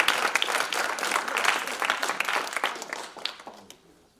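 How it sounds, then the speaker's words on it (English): Audience applause at a stand-up comedy show, dense close clapping that rolls for a few seconds and then thins out and fades. "Clap it up, clap it up."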